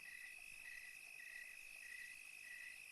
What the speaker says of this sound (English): This is what we're hearing in the streets. Crickets.